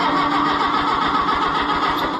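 Engine of an Oliver tractor with a freshly rebuilt motor cranking over steadily on a weak battery without catching, a continuous loud churning drone with fast rhythmic pulses, no voices.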